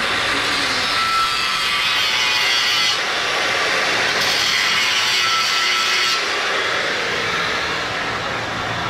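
A power tool grinds steadily along a weld seam to open it on a cracked Erkunt tractor wheel rim, giving a continuous loud abrasive whine with slight shifts in intensity.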